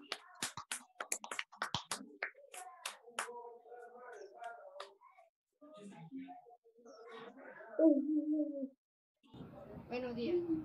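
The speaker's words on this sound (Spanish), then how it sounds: "Bravo, Luciano. Aplauso, chicas." A few people clap in short, sparse bursts at a school celebration for Fiestas Patrias, with sharp isolated claps early on, followed by voices speaking.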